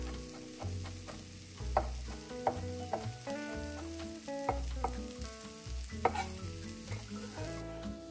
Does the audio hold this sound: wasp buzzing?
no